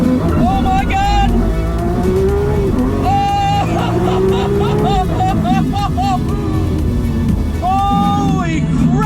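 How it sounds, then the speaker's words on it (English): A Lamborghini Aventador SVJ launching under launch control, its engine roaring loudly and climbing through repeated rising pitch sweeps as it shifts gears, continuous and close from start to end. "I'm gonna show you what launch control is like"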